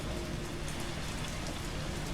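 Hard rain falling outside in a dense, even hiss of drops, steady and close with no breaks, from the video game Resident Evil 3.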